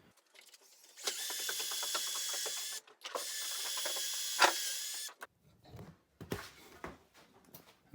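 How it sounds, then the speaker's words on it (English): A power drill bores pocket holes in wooden breadboard pieces for a farmhouse table, running in two sustained whirring bursts of a couple of seconds each. Close, steady motor whine is followed by softer clunks and handling noises. "I drilled the 2 pocket holes in each one to connect the breadboards"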